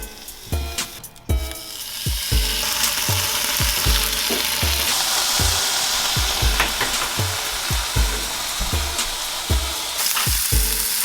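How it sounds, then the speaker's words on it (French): Bacon sizzles steadily in a hot pan while a pizza is being made, a dense crackling hiss with repeated sharp knocks of a utensil against the pan throughout. "On va faire cuire le lard."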